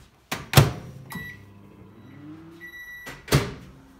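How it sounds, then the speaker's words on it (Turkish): A microwave oven heats a solidified gelatin mixture for about ten seconds. The door shuts with a thump, a low steady hum runs, and short beeps and another door clunk sound near the end. "Şimdi ben bunu mikrodalgaya koyacağım."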